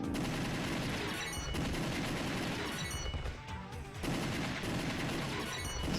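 Gunshots in the arcade typing game Typing of the Dead, loud rapid bursts of repeated shots with one short lull in the middle, no speech.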